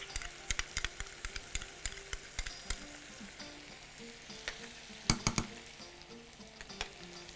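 Onions fry and sizzle in a pan for a rice sauce with coriander, paprika and tomato, with a constant crackling hiss broken by regular sharp scraping and knocking strokes of stirring, close and without speech.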